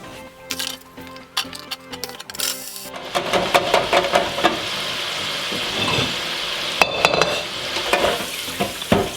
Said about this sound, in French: plongez une première fois à 150 degrés dans la graisse de bœuf, puis une seconde fois à 170 degrés